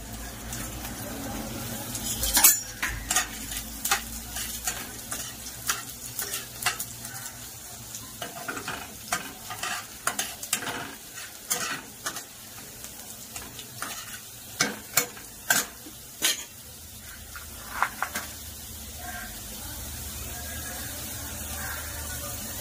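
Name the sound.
garlic frying in oil in a wok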